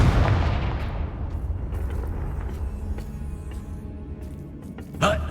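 A Confringo explosive spell fired in the Hogwarts Legacy video game: a heavy booming blast that rolls off into a long fading rumble, with scattered crackles and a sharp bright burst near the end.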